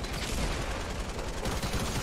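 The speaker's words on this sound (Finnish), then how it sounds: "mä ammun sen täällä" Rapid gunfire during a video game match, dense overlapping bursts of shots forming a continuous crackling barrage at fairly close range, with no talking.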